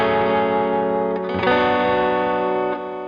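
Electric guitar on the middle pickup with the modulation off: a loud, sustained, distorted chord, struck again midway and left to ring before fading slightly, with no voices.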